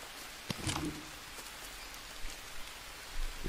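Steady rain hiss in the video game Green Hell with a few brief louder splashes and thumps, fairly quiet and continuous throughout.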